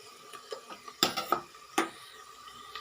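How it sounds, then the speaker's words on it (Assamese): A utensil stirs cashews and raisins with fried onions in a cooking pan, making a few scattered metallic clinks and scrapes at uneven intervals, with sharper knocks near the middle and quiet frying in between. "কাজু খিচমিচখিনি দিয়াৰ পাছত অলপ সময় এনেদৰে লৰাই দিব।"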